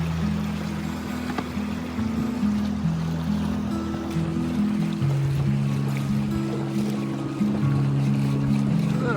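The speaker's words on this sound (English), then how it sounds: "Just running the e-propulsion here" Electric boat cruising on an ePropulsion outboard motor, a steady low hum with shifting tonal drones under water and wind wash, continuous and fairly close throughout.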